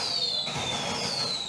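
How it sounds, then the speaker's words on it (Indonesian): Firecrackers set off by kids at night during Ramadan, a dense crackling burst with a whistling tone overhead, fairly loud and continuous. "Itu bocah-bocah, udah malam masih aja main petasan."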